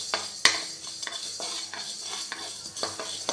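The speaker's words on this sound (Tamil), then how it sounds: "இதுவும் நல்லா செவக்க வறுத்துக்கணுங்க" Urad dal dry-roasting in a pan for sesame seed idli and dosa powder, stirred with a utensil that gives repeated light scrapes and clinks against the metal, fairly close and steady, with no talking.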